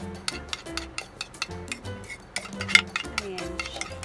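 A spoon stirs coffee and egg white in a small container, making a series of light, rapid clinks and taps against the sides with quiet scraping in between; nobody speaks.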